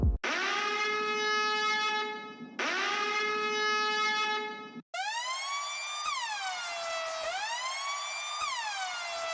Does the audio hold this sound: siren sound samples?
yes